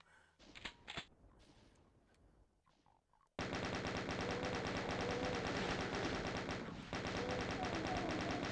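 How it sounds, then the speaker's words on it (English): Sustained rapid chain gun fire in the video game Doom, a loud dense stream of shots running continuously for several seconds after quieter game sounds at the start. "Where's the other chain gun?"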